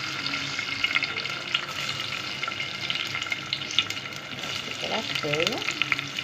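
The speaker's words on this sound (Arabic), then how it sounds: "معايا زيت، معلقه سمنه، هنسيبهم يسخنوا، وننزل بحبه كده من الرز البلدي المغسول" Washed Egyptian short-grain rice sizzles in hot oil and a spoonful of ghee, a steady close frying hiss with scraping stir strokes throughout, and someone speaks briefly near the end.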